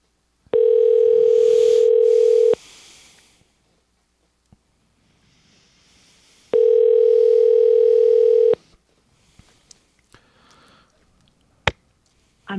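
Telephone dial tone during an outgoing call, two steady loud tones of about two seconds each separated by a pause, followed by faint clicks and handling noise.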